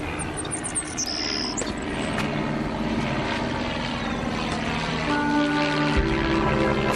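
A propeller airplane drones steadily overhead, its engine tone rising and shifting as it banks and turns, with a continuous rumbling roar throughout.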